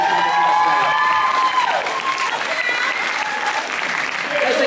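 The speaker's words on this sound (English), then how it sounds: "give Rachel, Jess and Hay a massive round of applause as they come up" Audience applause for Rachel, Jess and Hay coming up at a church event, a steady broadband wash of clapping filling the whole stretch, with faint cheering and voices mixed in.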